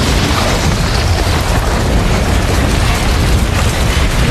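A loud, dense explosion roars through a dubbed action film, a sustained broadband blast with rumbling low end filling the whole stretch without letup.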